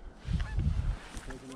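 Canada geese honking during a waterfowl hunt, several nasal honks from a flock overhead, loud and fairly near against the open air, with no talking.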